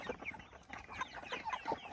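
Cornish meat chickens on pasture clucking, a run of short, soft overlapping clucks and murmurs from several birds at moderate distance, with no talk.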